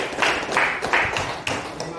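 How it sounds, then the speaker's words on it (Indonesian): A class of students applauds after group presentations, several soft ragged bursts of clapping close by, with a voice faintly underneath. "Sama-sama kita beri aplaus dulu untuk semua kita."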